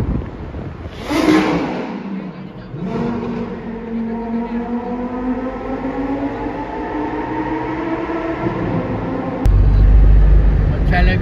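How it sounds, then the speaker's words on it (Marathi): A Lamborghini roars through an underground road, a loud, echoing rumble that builds and holds steady as it passes, ending in a heavier surge, with voices talking over it. "गाडी येते, गाडी लॅम्बोर्गिनी येते, लॅम्बोर्गिनी."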